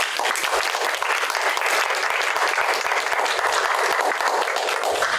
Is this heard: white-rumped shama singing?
no